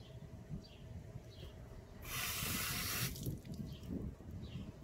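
Water spraying onto a car wheel during cleaning, a brief burst of hissing splash lasting about a second amid quieter dripping and faint scrubbing.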